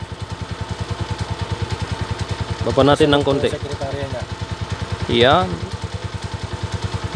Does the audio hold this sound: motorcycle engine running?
yes